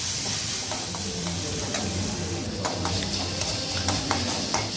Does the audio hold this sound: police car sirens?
no